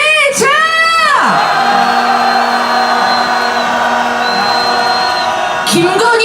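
A protest crowd roars a sustained rallying cheer during a march demanding President Yoon Suk-yeol's impeachment, loud and continuous, with rising whooping yells at the start and end.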